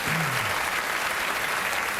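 A television studio audience on a late-night talk show breaks into dense, sustained applause, a steady wash of clapping throughout.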